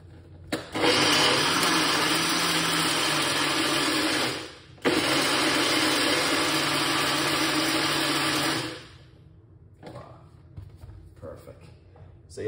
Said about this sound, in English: So you don't need to blend it too long